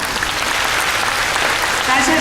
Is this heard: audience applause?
yes